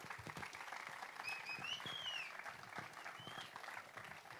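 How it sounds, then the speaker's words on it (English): A round of applause at a football academy player presentation evening, heard faintly as a room of people clap while a player walks up to the stage, with a few whistles over the clapping. "So Juan Carlos, we'll give him a round of applause as he's on his way up to the stage."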